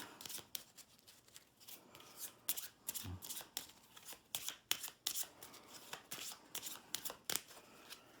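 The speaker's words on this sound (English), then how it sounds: "so I'll shuffle this up a little bit." A deck of cards being riffled and shuffled repeatedly, crisp rapid flutters and snaps in quick bursts, close by, with no talking.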